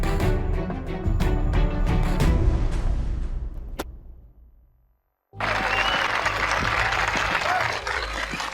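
Audience applause at a managing partner roundtable swells after music fades out and a brief silence, then sustains as a dense, loud burst of clapping filling the room.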